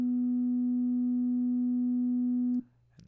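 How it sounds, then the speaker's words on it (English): A pure sine wave test tone holds steady and loud for about two and a half seconds, then cuts off abruptly, leaving a low hum and a faint click. "Turn down these so I just have a pure sine wave."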